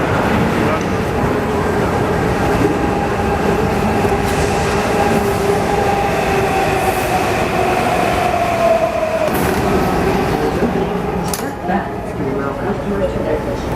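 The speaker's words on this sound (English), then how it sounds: "Here's our train." A Washington DC subway train arriving at a station rumbles loudly and steadily with a rising screech of wheels and brakes, people talking faintly over the continuous roar.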